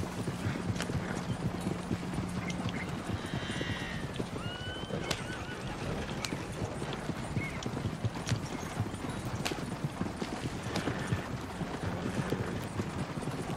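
Horse hooves clip-clop in a steady galloping rhythm on a road in Red Dead Redemption 2, close and continuous, with occasional whinnies and faint tack jingle.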